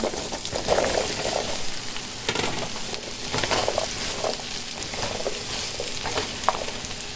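Bottle gourd tipped into a hot pan of browned spice paste with bay leaf and cinnamon, a loud sustained frying sizzle with wet stirring and occasional scrapes close by.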